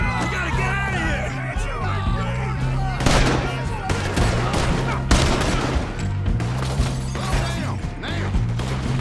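Rapid volleys of gunfire ring out in a Red Dead Redemption 2 shootout, sharp repeated shots and bursts clustering close together over a dense game soundtrack, with a voice shouting in places.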